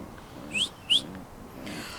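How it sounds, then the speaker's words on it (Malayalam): Pigeons fighting inside a coop in Saudi Arabia after moving in from another coop: two short, sharp squeaky calls half a second apart, close and fairly quiet over a soft background hiss. "ഇതാണ് പ്രാവുകൾ കൂട് മാറി കയറിയപ്പോഴുള്ള തല്ലാണ് കേട്ടോ."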